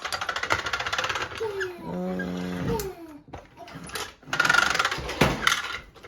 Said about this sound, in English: It's literally like a little vacuum. And it just like picks up the little